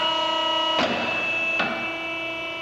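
Automatic tube expanding unit, model RCP 8511 A 5, with its hydraulic cylinder retracting: a steady machine hum carries two short hissing bursts about a second apart.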